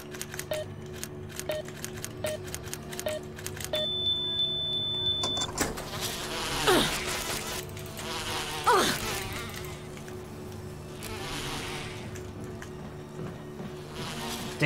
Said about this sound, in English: Damn bees, I didn't even see them at first.